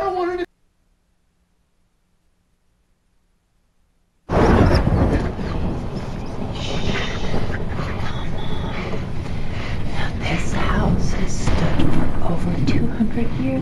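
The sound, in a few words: thunderstorm in a film scene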